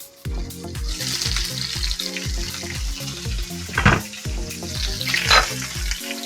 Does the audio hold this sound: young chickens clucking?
no